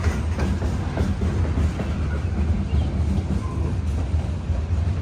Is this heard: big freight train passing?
yes